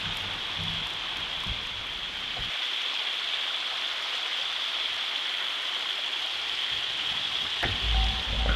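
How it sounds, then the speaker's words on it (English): Water runs steadily over small mini waterfalls along a stream in a nature sanctuary in Barbados, a continuous close rushing wash with faint low knocks near the start and end. "Just to hear the water running"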